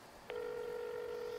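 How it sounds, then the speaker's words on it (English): A phone places a call: a single tone keys on and holds steady as a continuous beep, close and clear over a faint hiss, with no voices. "I pulled my phone out and called the number on the order."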